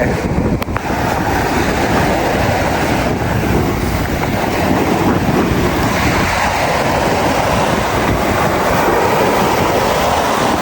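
Loud, continuous roaring surf at Ransohan Beach during a strong monsoon storm, with heavy waves churning without pause from start to finish.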